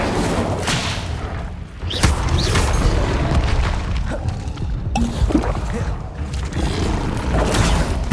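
An Incendio fire spell cast in Hogwarts Legacy, played on hard mode, heard as loud booming blasts and crashing impacts over a dense, continuous game soundscape.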